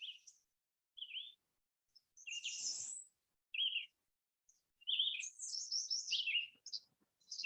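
Birds chirping and tweeting in short bright bursts, several calls spread across the clip with gaps of silence between them, fairly close and clear with no talk over them.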